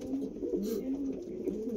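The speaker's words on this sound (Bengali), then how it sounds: "এটা হচ্ছে প্রথম জোড়া আন্ধ্রা লাল ফুল" A pair of Andhra Lal Ful pigeons coo in low repeated rolling phrases nearby, steady throughout, with one brief higher chirp partway through and no voices.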